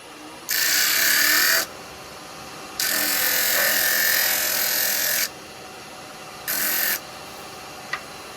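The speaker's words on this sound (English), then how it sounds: "I'm going to sand these as I go." A power sander works over small woodturned Christmas pieces in three bursts of high whirring, one short, one long, one brief, with quiet pauses between and a small tap near the end.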